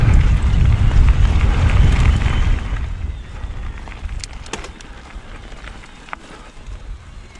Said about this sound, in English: Very breezy.